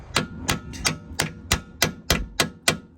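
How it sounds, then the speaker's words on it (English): Nine sharp metallic hammer taps at an even, steady rhythm, close and distinct, each with a short ringing decay, tapping a rear shock part into place on a VW Golf R32, no voices. "It's just tapping it just to make sure that the other side, the pilot hole has lined"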